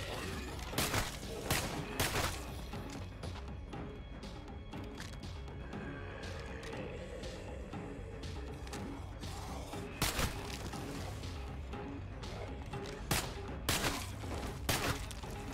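Player's gun firing in State of Decay 2, sharp gunshots in short bursts and single cracks spread over the stretch, loud against a steady game backdrop, with quieter spells between volleys.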